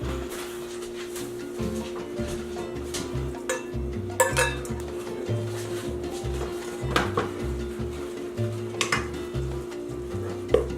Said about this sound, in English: Then just fluff it up with a spoon and it's ready to eat.